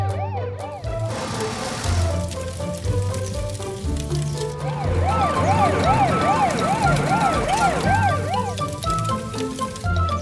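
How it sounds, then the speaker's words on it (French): Cartoon fire truck siren wailing loud and close in rising-and-falling sweeps, repeating continuously over a busy animated soundtrack, with a brief music sting at the start. "Le camion de pompiers allume ses feux de détresse et ses sirènes."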